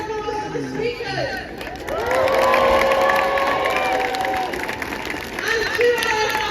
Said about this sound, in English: can I ask you to give a huge round of applause for the speakers?